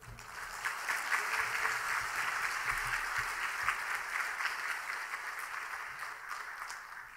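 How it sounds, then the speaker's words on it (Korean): A church congregation applauds warmly and steadily throughout to welcome a guest pastor, with dense clapping that swells early and holds at a fairly even level. "나오실 때 뜨거운 박수로 환영해 주시기를 바랍니다"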